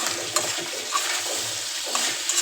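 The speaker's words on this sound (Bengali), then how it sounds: "এখানে হচ্ছে মুরগিটা ভাজতেছি" Chicken frying in a pan, a constant close sizzle with rhythmic stirring scrapes and light taps of a spatula against the pan.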